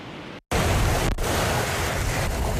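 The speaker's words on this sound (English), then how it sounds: "as big as the waves are right now, they were even bigger just a few hours ago." Big waves crashing and strong wind at the South Haven pier on Lake Michigan, a loud, steady broadband roar of surf and gusting air with a brief dropout near the start and no voices.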